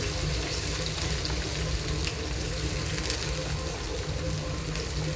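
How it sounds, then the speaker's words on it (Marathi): Onion paste, ginger and garlic frying in hot oil in a wok, a dense steady sizzle and crackle filling the whole clip at close range. "तेल आता तापलेलं आहे कढईमध्ये त्यात मी कांद्याची पेस्ट आलं लसूण ते टाकत आहे ते थोडं भाजून घ्यायचं आहे"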